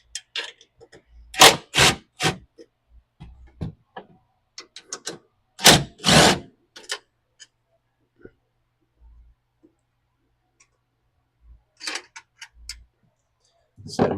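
Ratcheting and clicking from a socket wrench backing out the 14mm rear seat bolts on a Kawasaki KRX 1000 side-by-side, coming in short bursts of ticks between brief stretches of talk, with quiet gaps in between.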